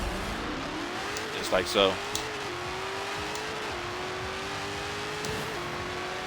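SRT Demon engine in Forza Horizon 4 held at full throttle, a steady, loud droning rev with a smooth pitch climb and brief gear-change dips, while someone talks over it.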